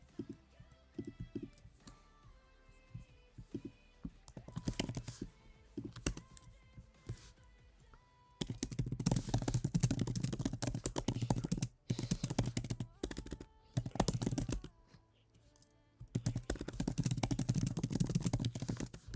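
A computer keyboard is typed on close and loud, in rapid clattering bursts of key clicks separated by short pauses, growing denser and heavier in the second half.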